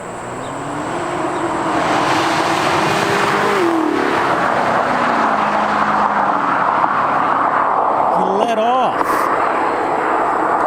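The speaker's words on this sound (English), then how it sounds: "This is the stock exhaust" Chevrolet Camaro ZL1 on its stock exhaust, a loud continuous engine drone that climbs and settles in pitch, with a sharp rev rising near the end, close by and steady throughout.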